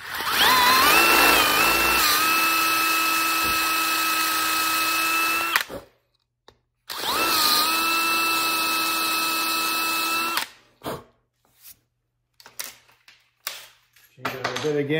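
A power drill works on an outdoor saloon-style shower door, two long loud steady whirring runs broken by a brief pause, then short bursts and clatter as the bit is changed, with someone talking in between.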